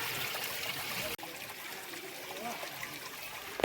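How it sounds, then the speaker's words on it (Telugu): Steady rushing water from a nearby waterfall fills the scene as a continuous broadband hiss, briefly interrupted once by a short break. "ఇక్కడైతే జలపాతం వస్తుందండి. జలపాతం బాగా ఉంది"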